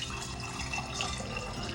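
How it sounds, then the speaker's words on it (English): Water kefir poured through a strainer tucked into a funnel and into a glass container, a steady close trickle of liquid running continuously with no voices. "So I'm just going to go ahead and pour the water kefir here."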